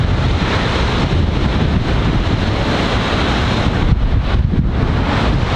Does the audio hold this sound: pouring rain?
yes